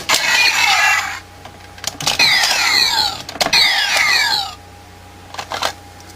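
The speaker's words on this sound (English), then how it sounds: "each memory makes its own individual sounds through its own speakers, so you can have overlapping sound effects" Electronic sound effects from a Kamen Rider W Super Best Double Driver toy belt, several bursts of synthesized swooping tones that overlap one another, loud and close, followed by quieter faint chirps.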